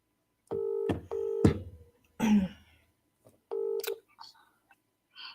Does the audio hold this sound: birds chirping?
no